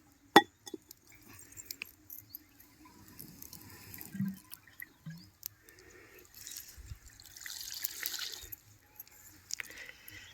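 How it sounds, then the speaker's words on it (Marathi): Leafy vegetables rinsed under running water outdoors at a farm, with a quiet, intermittent trickle and splash and scattered small handling knocks and drips. "आता ही भाजी ना धुवून घेऊ"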